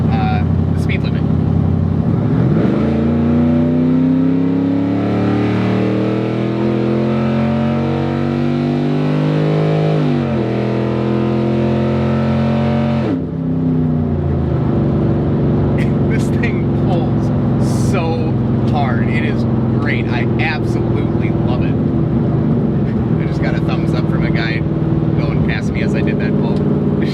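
A 2011 Camaro 2SS/RS with an L99 V8 revs up through several rising sweeps, loud and close. Then it settles into a steady roar while voices talk over it.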